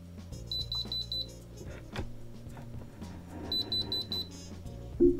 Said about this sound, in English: So now it's beeping.